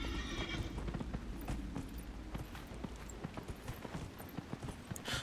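In the Dragon Age: Inquisition game, a bog unicorn mount clops its hooves in a steady rhythm and gives a whinnying neigh over a continuous ambient game background.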